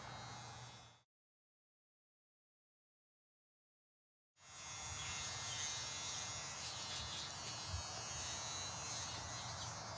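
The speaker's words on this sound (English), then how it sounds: "This is the Andis Profoil shaver" An Andis Profoil electric foil shaver running steadily in a haircut setting, a close, continuous buzzing hum that cuts out for a few seconds and then resumes.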